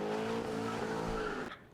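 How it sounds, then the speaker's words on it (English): A car engine revs hard with a rising, tonal roar while tires skid and squeal, loud and close for over a second before cutting off abruptly, with no talking. "Rev up your engines!"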